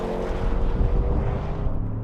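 A 2021 Range Rover Sport SVR Ultimate edition with its special V8 roaring, loud and dense, a rumbling growl that swells and holds close by for a couple of seconds.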